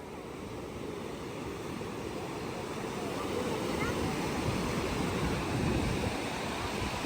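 Sea waves wash up a beach in Goa, a steady, close, broadband surf roar that swells slightly toward the end and runs without pause.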